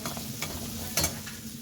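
Onions and beetroot are stir-fried for beetroot biryani, sizzling steadily in the pan as a spoon scrapes and stirs in a few quick strokes up close.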